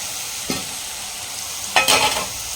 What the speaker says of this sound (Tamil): மிக்ஸ் பண்ணிவிட்டு உருளைக்கிழங்கு வந்து நம்ம வேக வச்சு பார்த்திங்கன்னா சேர்த்துக்கலாம்.